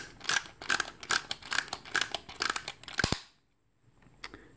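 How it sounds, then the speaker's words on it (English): A Beyblade launcher being wound, giving a fast, regular series of about eight sharp ratcheting clicks over three seconds, close and fairly loud, followed by near silence with one faint tick. "You spin until you hear that harsh click."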